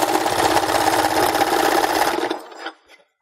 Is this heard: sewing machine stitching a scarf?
yes